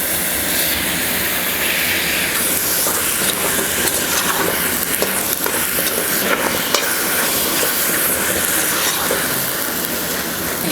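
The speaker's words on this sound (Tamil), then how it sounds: "இப்போ இஞ்சி பூண்டு வெங்காயம் தக்காளி இது எல்லாமே நல்லா வதங்கிடுச்சு" Ginger, garlic, onion and tomato sautéing in a kadai for dhaba-style chicken gravy, giving a steady, loud broadband sizzle that runs unbroken throughout, with no talk over it.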